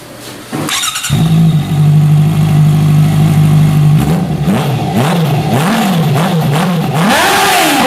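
A 2017 Honda CBR650F with a full aftermarket exhaust and the baffle removed, loud and close, settles into a raspy idle and then revs repeatedly in rising and falling blips.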